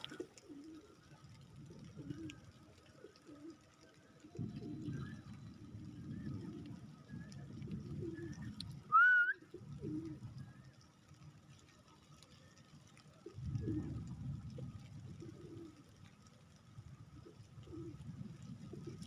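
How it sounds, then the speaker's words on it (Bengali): Pigeons cooing in light rain in front of their coop, soft low repeated coos coming in bursts over a faint patter, with one brief sharper bird call midway. "দেখেন বৃষ্টির মধ্যে কবুতরগুলো সব ঘরের সামনে সব চলে আসছে টুকটুক করে ঘরে ঢুকে যাবে"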